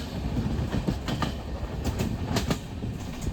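A passenger train runs on the rails near Ghatnandur station on the line toward Parli Vaijnath, a steady rumbling roll with rhythmic clickety-clack wheel beats over the joints, heard continuously from on board.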